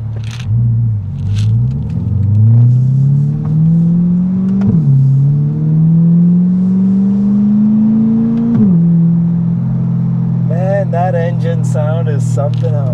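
A 2021 Corvette Stingray C8 heard from inside while driving, its engine and exhaust valves droning loudly and steadily with rising revs through gear changes, ending with some clattering noises.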